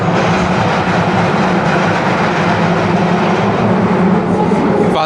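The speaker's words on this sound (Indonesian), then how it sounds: "Cuman ya tua, kecil tube-nya dan berisik banget" A noisy old London Underground tube train roars loudly and steadily throughout, a dense rumbling rattle of wheels and carriages heard from inside, with no break in the noise.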